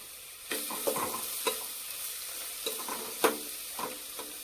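A spoon stirs samosa filling with garam masala, Kashmiri red chili and turmeric in a frying pan, giving a steady sizzle broken by several scraping strokes, close and moderately loud.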